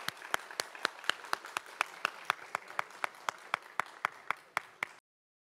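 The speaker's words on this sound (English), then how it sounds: "Let's have a round of applause for our contestants so far." Clapping at a high school scholastic bowl competition comes as about twenty crisp, evenly spaced claps in a steady rhythm, moderately loud, stopping abruptly into silence.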